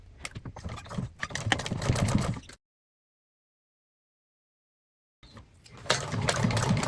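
A sewing machine stitches a seam on a crossbody bag with a zipper, running in two bursts of steady mechanical whirring separated by a silent pause, close and fairly loud.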